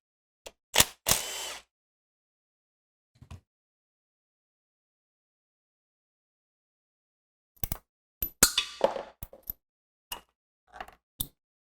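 Bolts being pulled from the timing chain tensioner on a Ford 3.5L V6 during timing chain and water pump replacement, heard as scattered sharp metallic clicks and clanks in short bursts with long quiet gaps.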